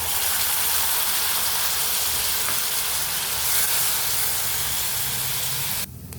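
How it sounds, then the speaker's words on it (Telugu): Soaked, drained moong dal frying in a pan for a spinach stir-fry, giving a continuous loud, even hiss of sizzling that cuts off sharply just before the end. "ఈ పెసరపప్పును వేసేసి ఫ్రై చేసుకున్నాను"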